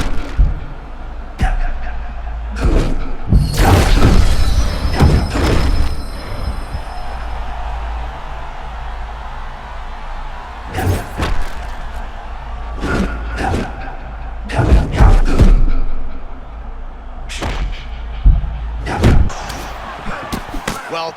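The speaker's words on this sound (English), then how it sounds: "And now leather being thrown on both sides." Heavy punches land in an EA Sports UFC 6 bout between Ignacio Bahamondes and Esteban Ribovics, sharp loud impacts arriving in scattered clusters, with a commentator talking in between.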